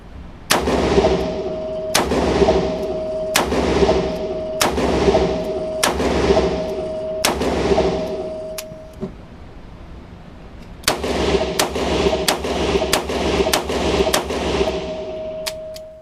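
White Rhino revolver fired at an outdoor range: a run of six sharp, loud shots at an even pace, a pause of a few seconds, then another rapid string of six shots, with no talking.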